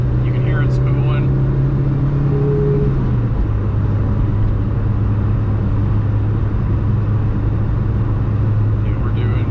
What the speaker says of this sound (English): You can hear it spooling.